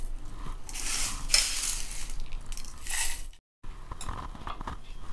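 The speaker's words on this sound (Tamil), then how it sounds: "இது நல்லா ஆறிச்சு, நம்ம இப்போ மிக்ஸி ஜாரில் சேர்த்துக்கலாம்." Cooled roasted sesame seeds and other ingredients are tipped into a mixie jar in a home kitchen, giving a few close scraping, rattling and clinking sounds with a short gap of silence.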